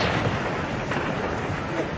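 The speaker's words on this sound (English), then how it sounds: "The gunfire has kicked off on the horizon." Gunfire in a street battle in Mogadishu in 2007, heard as dense, booming, rumbling bursts of shots and echoing blasts that run continuously and loudly through the whole stretch.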